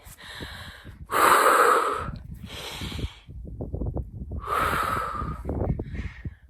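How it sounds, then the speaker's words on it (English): Heavy, ragged breathing right at the microphone during a hike, with loud gasping inhales and harsh exhales in uneven bursts, no talking. "ASMR of me heavy breathing."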